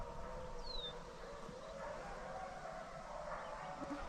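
Eight sled dogs kept at a home howl together in a faint, distant chorus of drawn-out, wavering tones, one rising yip standing out briefly above the low, continuous group sound.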